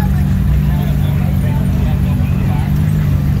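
Liberty Walk Lamborghini Huracan with its front lift raised and a Liberty Walk Ferrari 458 Spyder drive by at a Los Angeles car show: a steady, deep engine rumble under a constant crowd murmur.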